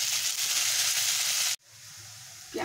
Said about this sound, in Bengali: এবারে আমি পেঁয়াজ কুচিটা এর মধ্যে দিয়ে দিলাম।